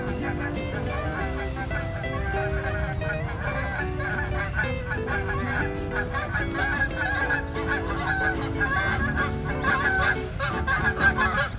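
A flock of geese on a lake honks continuously, many overlapping calls forming a noisy, close chorus without pause.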